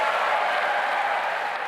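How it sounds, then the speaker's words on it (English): Audience applause for UK Prime Minister Keir Starmer at a speech, a brief burst of steady, even clapping from a crowd in the room. "Applause for this Prime Minister rare these days."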